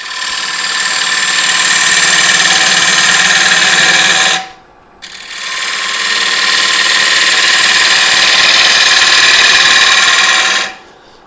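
Bowl gouge cutting into a wooden bowl spinning on a lathe, a loud steady broadband roar for about four seconds, a brief pause, then a second long continuous cut before it stops.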